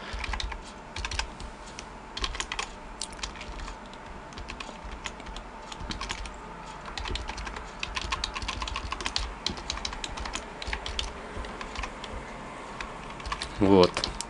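Steady typing on a computer keyboard while programming C++ for Arduino, a continuous run of quick clicky keystrokes throughout, close and moderately loud, with a heavier cluster of presses near the end.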